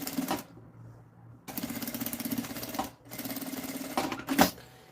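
A sewing machine fitted with a zipper foot stitches a fabric lining for a pencil case in three close, rapid bursts separated by brief pauses, with sharp mechanical taps near the end.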